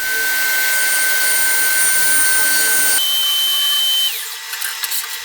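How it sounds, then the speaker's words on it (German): Saw cutting wooden French cleat strips into 6 cm wide straight pieces, a loud steady whining cut that shifts pitch partway through and then winds down near the end. "Das werde ich jetzt gleich erstmal in weitere Teilstücke zersägen, nämlich in 6 cm breite Streifen im geraden Schnitt."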